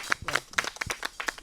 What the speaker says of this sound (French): on applaudit très fort parce que c'est l'album du patron